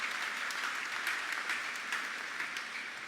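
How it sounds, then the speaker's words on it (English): A crowd at a church gathering applauds local government officials, a steady wash of dense clapping that holds at an even level for a few seconds without any voices rising above it. "Shall we give them a big round of applause"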